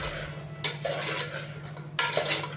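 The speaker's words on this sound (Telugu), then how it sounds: "ఇప్పుడు కొంచెం పసుపు అంతా ఒకసారి బాగా కలుపుకుందాం" A utensil stirring a pot of black-eyed pea dal with turmeric and green chillies gives two bursts of scraping and clattering against the metal, close and fairly loud, with a low steady hum underneath.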